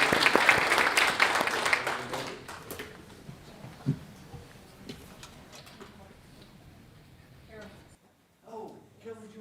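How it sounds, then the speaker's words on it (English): A crowd at a town council meeting claps for a couple of seconds before the applause fades into scattered taps and quiet room noise, with faint voices afterward. "So let's give them all a round of applause."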